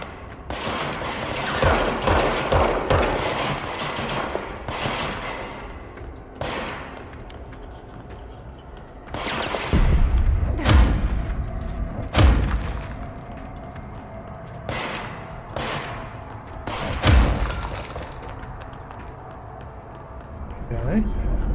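Gunfire rings out in the video game Control: sharp repeated shots and bursts crackle at moderate loudness, clustered in volleys with gaps between, while someone talks over parts of the action.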